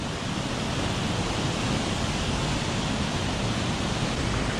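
A waterfall in a Sumatran rainforest pours down as a loud, constant, even roar of rushing water that fills the whole moment without a break.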